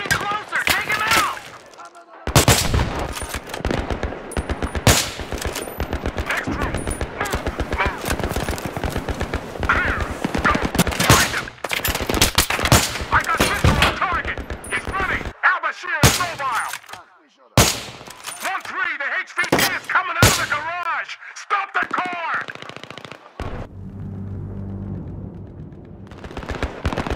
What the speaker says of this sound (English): Taking effective fire! Impacts are getting closer!